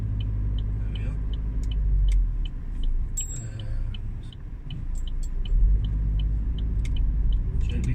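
Vauxhall Zafira Tourer car accelerating gently through the gears, a low steady engine rumble heard from inside the cabin that rises and eases with each shift, with a faint repeated ticking over the top.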